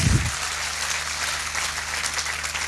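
Audience applause at a live show, steady dense clapping throughout, fairly distant and even, with no talk over it.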